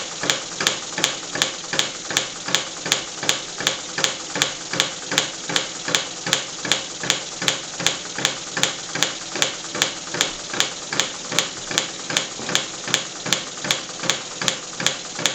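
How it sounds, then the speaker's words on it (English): A homemade aluminum drop hammer with a 12L14 steel flywheel and pulley, driven by an aluminum wobbler steam engine, thumps in a steady fast rhythm, roughly two blows per second, close and loud with a clattering mechanical chatter. "running my aluminum drop hammer"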